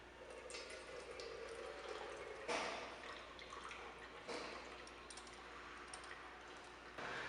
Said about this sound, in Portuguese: eu lavo o excesso com água corrente ou água destilada